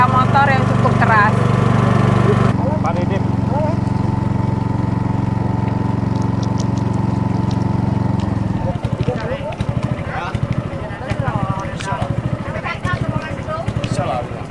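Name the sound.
loud motor of small ketek boat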